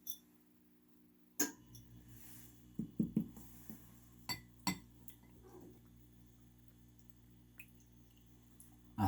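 Milk poured into a glass of ice, a quiet close pour with soft crackling and a run of small clinks and ticks from the shifting cubes, faint overall.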